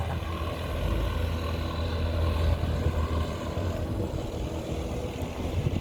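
Boats out on a river along a city waterfront in Nice, heard as a steady low engine drone and water wash under strong wind buffeting the microphone, continuous and fairly loud with no talk.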